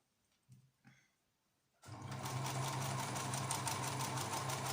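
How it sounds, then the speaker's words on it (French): After a couple of soft clicks and a brief quiet moment, a sewing machine starts up and runs at a steady, fast, buzzing hum while topstitching a seam on a fabric face mask. "une belle surpiqûre pour pouvoir maintenir la couture bien à plat"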